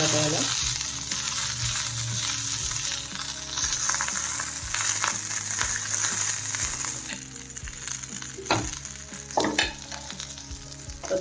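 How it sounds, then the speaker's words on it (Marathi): Green chilli thecha with fresh coriander stirred in a hot pan, a continuous loud sizzle with spatula scrapes and clinks growing more frequent toward the end, nearby and without talk. "त्यावरती आता कोथिंबीर घ्यायचं टाकून मिक्स करून घ्यायचं"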